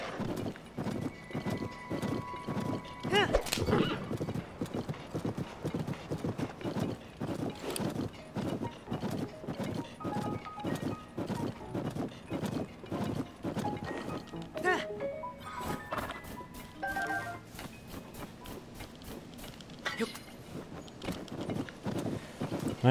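Video game horse hooves in The Legend of Zelda: Tears of the Kingdom clip-clop steadily throughout, with a horse whinnying a couple of times; a voice is faintly present at moments.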